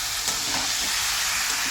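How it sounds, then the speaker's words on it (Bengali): Meat tossed into fried spice masala and stirred in a pan, giving a steady close broadband sizzle with faint scraping throughout, no voices. "মশলা আমার কষা হয়ে গেছে, এর মাংসগুলো দিয়ে দেবো, দিয়ে ভালো করে কষবো।"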